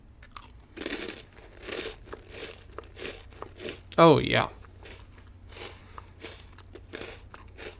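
Close, loud crunching as someone chews crunchy mini cookies in steady bites, with a brief spoken remark partway through.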